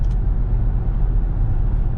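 Interior road roar of a 2005 Ford Expedition Eddie Bauer 4WD cruising at about 70 mph on the highway: a dense, steady low rumble of engine and tire noise, loud and unbroken, with no voices.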